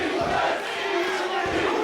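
A wrestling crowd at an indoor event cheers and shouts continuously, a dense roar of many voices with rising chants, loud and close throughout.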